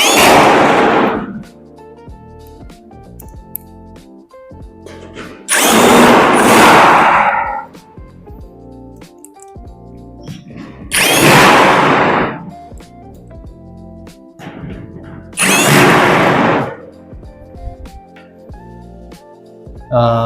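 A power drill drives bolts while a two-door wardrobe with hanger rails is assembled: four loud, close bursts lasting about two seconds each, spaced several seconds apart, with quieter background sound in between.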